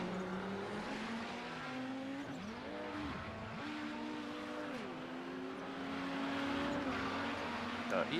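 An Audi 90 GTO race car at Daytona International Speedway in a racing video game, with engines whining and shifting pitch up and down in a continuous drone of several cars. Commentators talk faintly underneath.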